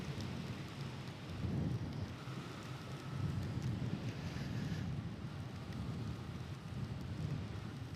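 Rain and wind rush past steadily while a motorcycle is ridden in wet weather, a loud, even roar of noise with gentle swells and no voices.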